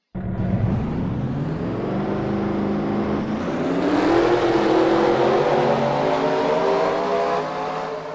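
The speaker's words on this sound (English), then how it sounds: "Drivers, start your engines!" Race car engines in a NASCAR-style video game start up at Las Vegas and rev together in a loud, continuous layered roar, pitch climbing and holding steady as the field idles and builds revs.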